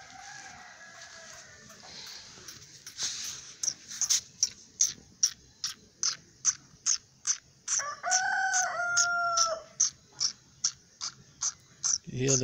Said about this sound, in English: Hear the sound that is coming from the jake, from the male.